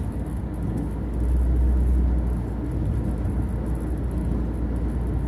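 A car cruises along a highway bypass near Pattani, Thailand, giving a steady low road rumble and tyre whir from inside the cabin, with a brief swell in the engine drone partway through and no talk.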